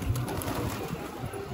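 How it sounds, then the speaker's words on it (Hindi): A wild pigeon on a rooftop gives a short low coo at close range, heard over faint background hiss. "ये पता नहीं कैसा कबूतर आके गिरा है अपनी छत पे, जंगली वाला"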